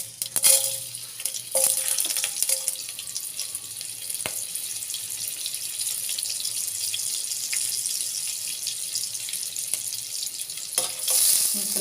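Mustard seeds and chana dal crackle and sizzle in hot oil for a South Indian tempering, a steady close hiss running throughout with scattered sharp pops and a few clinks near the pan.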